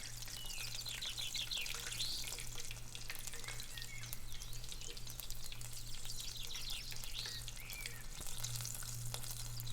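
Chicken and potato croquettes fry in oil over medium heat, a continuous close sizzle with scattered crackles and pops above a low steady hum, and no voices.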